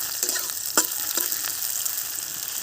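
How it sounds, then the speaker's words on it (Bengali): Onion frying with cumin in a pan for a village-style fish curry, a steady bright sizzle with a few sharp spatula scrapes and clinks near the start, close by, no voices. "পেঁয়াজটাকে ভেজে নেব"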